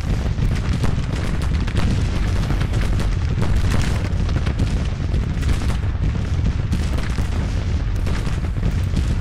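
Dense, continuous artillery fire rumbles through a Civil War battle in the strategy game Grand Tactician: The Civil War, with booms overlapping into a steady loud roar and no talking.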